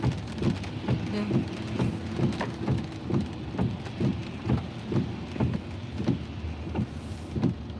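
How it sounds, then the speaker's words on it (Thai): Heavy rain pouring steadily outdoors, with dense hiss and regular surging pulses as it comes down in waves, loud and close with no talking. "เหมือนกับอะไรอะฝนวิ่งอะ เหมือนฝนมันวิ่งอะค่ะ"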